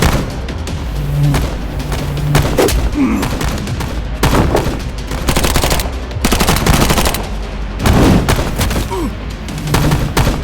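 Heavy gunfire from a spy action scene, with loud sustained automatic bursts and rapid shots that carry on almost without a break throughout.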